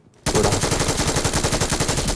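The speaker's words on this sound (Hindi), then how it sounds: "660 फायर रेट में थी एमजी" Sustained automatic fire from an MG set to a 660 fire rate in the mobile battle royale game BGMI, a loud continuous burst of rapid, evenly spaced shots that starts abruptly after a brief quiet moment.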